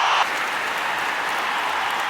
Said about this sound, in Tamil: ஒரு மிகப்பெரிய கைத்தட்டல்